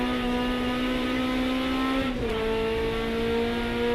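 Hot hatch race car at Cadwell Park in a 750 Motor Club race, its engine droning steadily, then briefly dipping and jumping in pitch on a downshift before pulling hard again, close and loud with no talk.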